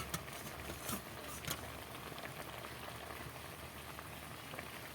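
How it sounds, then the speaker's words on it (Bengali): Banana flower (mocha) boils in a covered pot, giving a soft, steady bubbling and hissing with a few louder pops and spits, faint and continuous, with no voices. "এবার মোচাটা আমি ঢাকা দিয়ে সিদ্ধ করে নেব"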